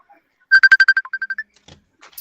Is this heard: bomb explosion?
no